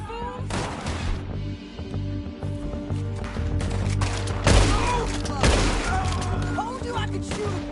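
Gunfire in the video game Red Dead Redemption 2: a rapid fusillade of loud, sharp shots and thuds bursts repeatedly over several seconds, mixed with in-game voices and background effects.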